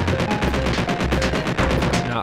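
Rapid gunfire in the Enyo Arcade video game, a dense stream of evenly spaced shots, loud and continuous over game background sound.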